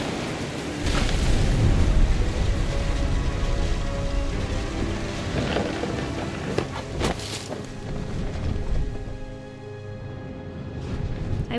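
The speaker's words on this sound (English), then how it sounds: "The thunder sounded much too close and full of angry power" In the video game What Remains of Edith Finch, steady rain pours with low rolling thunder rumbling close by, loud and continuous throughout.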